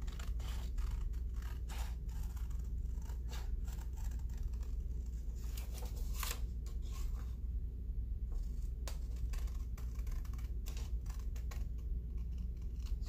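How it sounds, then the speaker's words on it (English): Scissors snipping through paper while cutting out a small umbrella shape for a handmade card, a steady run of close, crisp cuts with brief pauses between strokes. "Cut out one of these umbrellas."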